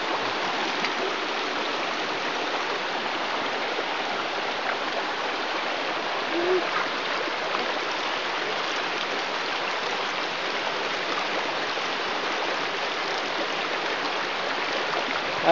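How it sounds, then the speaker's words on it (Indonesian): The Cibeling stream in Bogor rushes steadily and close by, a dense, unbroken wash of flowing water that holds an even loudness throughout with no voices. "Air mengalir."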